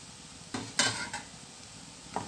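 A metal lid lifted off a pot of simmering vegetables for a tamarind fish curry, giving a few light clinks and scrapes over a soft bubbling hiss, quiet and close.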